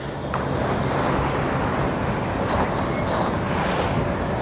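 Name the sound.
waves crashing on beach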